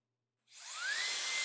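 A Super Turbo Jet Engine cordless blower fan switches on after a moment of silence, quickly spooling up into a loud, high whining rush of air that rises in pitch and then holds steady.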